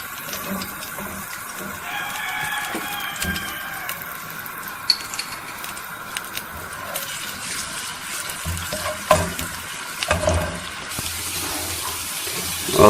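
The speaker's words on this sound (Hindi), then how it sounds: "अदरक लहसुन के पेस्ट को हमने हल्का भूनना है।" Ginger garlic paste lightly frying in oil for capsicum chicken karahi, a continuous sizzling hiss with scattered clinks and scrapes of stirring and a few sharper knocks, with no speech.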